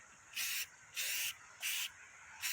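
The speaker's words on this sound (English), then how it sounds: "So you see I'm just spray painting it on, off, on, off." Spray paint hissing from an aerosol can onto a camper's tongue in four short even bursts, on and off in a steady rhythm, close and fairly quiet.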